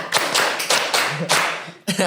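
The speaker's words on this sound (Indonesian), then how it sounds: "Tepuk tangan dulu dong semuanya." A small group claps hands in quick, uneven bursts during a casual talk session about football, fairly close, ending abruptly with a brief trailing sound.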